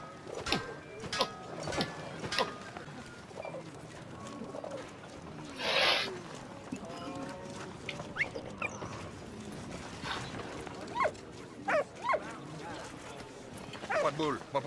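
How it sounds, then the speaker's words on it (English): A dog in the video game Valiant Hearts barks and yips sharply several times at a pigeon, mixed with bird sounds and clicking game noises while a person talks over it. "Why do you keep barking at the pigeon?"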